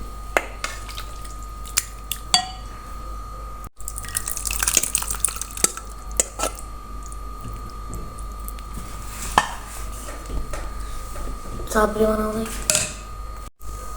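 Serving cooked chana dal with mixed vegetables in a kitchen, with scattered clinks of a spoon and dishes and a few soft drips under low background hum, one busier clatter near the end.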